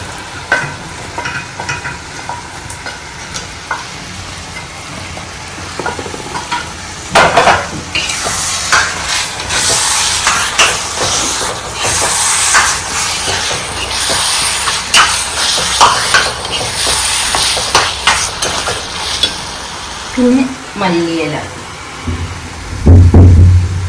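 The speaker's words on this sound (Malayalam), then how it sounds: "ഇനി അതിലേക്ക് നമ്മൾ ഫ്രൈ ചെയ്ത് വെച്ച ചിക്കൻ ഇട്ട് കൊടുക്കാം" Fried chicken is tipped into a sizzling pan and stirred, bringing bursts of loud hissing sizzle with scraping and clinks of a utensil against the pan, and a few louder knocks near the end.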